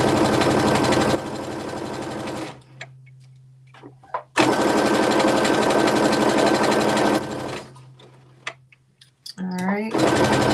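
A sewing machine stitches a garment for a KnowMe ME2069 top and pants, running in two long loud bursts with pauses between, while a voice talks during the gaps.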